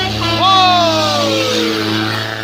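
An Isuzu truck engine climbs a hill with a steady, loud low drone, and a high falling whistle-like tone sweeps over it early on.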